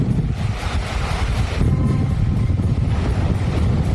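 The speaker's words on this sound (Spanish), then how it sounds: "Vamos a acercarnos a la zona de playa para ver cómo está el oleaje." Stormy wind roars over a beach with pounding surf, loud and constant, with heavy gusts buffeting the microphone and no voices.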